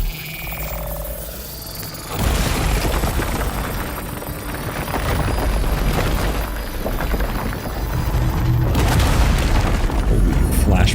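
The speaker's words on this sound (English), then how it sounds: "Holy flashbang." A flashbang explosion in Death Stranding 2: On the Beach lands as a loud boom, followed by a long ringing, roaring wash of noise with rumbling swells, and a voice speaks faintly under it.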